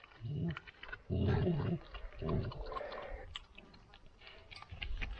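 Shepherd dogs chew and munch on chicken close by, with bursts of wet chomping and crunching, some low growly noises, and scattered clicks in between.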